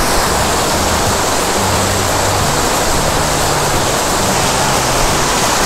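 Kushaira waterfall in Mirzapur pours in a steady, loud, broadband roar of rushing water, close and continuous throughout with no pauses or talk.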